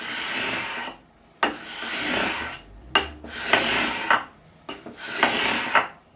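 Sandpaper of 400 grit on a 9.5 inch radius block rasps along the frets of a reliced Telecaster, heard as four long, steady scraping strokes with brief pauses between them and sharp clicks where each stroke starts and ends.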